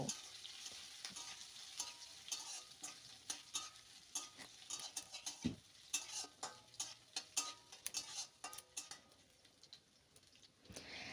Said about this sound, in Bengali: এবার কাঁচা লঙ্কা আর আদাটাকে একটুখানি ভেজে নেব